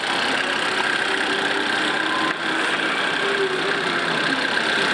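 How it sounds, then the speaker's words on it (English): A loud, steady diesel engine idle from a 1980 Mitsubishi Jeep rumbles and hums close by, unchanging throughout with no voices. "the diesel engine is noisy"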